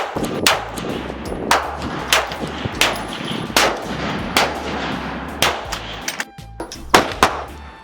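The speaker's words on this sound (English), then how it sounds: "Load your firearm. Shoot your firearm." Firearms fire at an outdoor shooting range, a steady series of sharp, loud reports at irregular intervals, some close and some farther down the line, with no talking.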